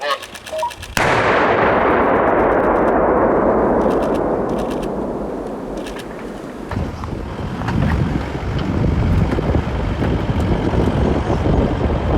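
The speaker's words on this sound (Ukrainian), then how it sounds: "Самородні вибухові пристрої знищимо на місці." A controlled detonation of explosive devices: a loud blast bursts out after a second of quiet, followed by a long rumbling roar and debris noise that slowly fades, then swells again with gusty outdoor noise.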